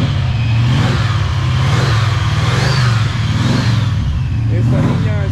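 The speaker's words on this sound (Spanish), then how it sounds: "Así es como se escucha el motor 360." A Dodge Ram D250 pickup with a 360 engine revving up close, a loud throaty rumble that swells and falls in repeated surges, with a person talking over it.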